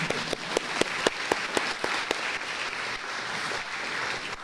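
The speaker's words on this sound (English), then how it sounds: "you can applaud here too if you want." Applause from an audience at a city council inauguration in Mission, BC, a fairly close, steady burst of many hands clapping that carries on throughout without pause.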